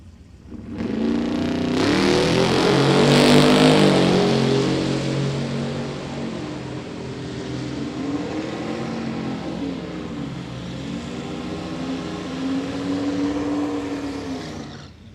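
Drag racing cars running down the strip at Sick Week, heard as a loud engine roar that sweeps past, with rising and falling revs and a second fainter pass trailing off.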